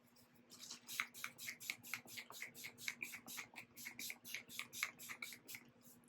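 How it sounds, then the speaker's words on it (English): An Urban Decay All Nighter makeup setting spray is pumped in a quick, steady series of about twenty soft spritzes, each a short airy hiss. The sound is quiet and close, with no voices. "Then I want to spritz."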